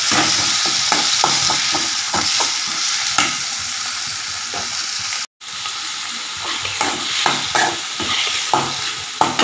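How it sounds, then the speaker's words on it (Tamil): Freshly chopped tomatoes sizzle and hiss in a hot pan for a peas and potato gravy while a utensil stirs and scrapes through them in repeated strokes, close and fairly loud. "அதை போட்டு நல்லா வதக்கி போட்டுக்கலாம்."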